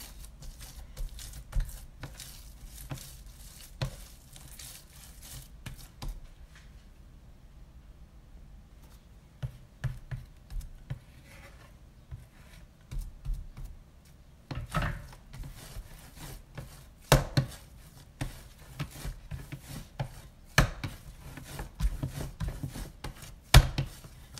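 Buttery dough being worked by hand, giving repeated soft slaps, presses and sticky patting in an irregular rhythm, close and fairly quiet, with a few sharper thumps toward the end.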